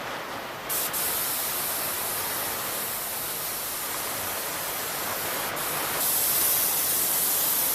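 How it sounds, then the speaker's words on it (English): Steady hiss of an airbrush spraying paint for a freehand drop shadow, continuous and close, with brief breaks and shifts in intensity as the trigger is worked, no talking. "pay attention to which way your airbrush is directed."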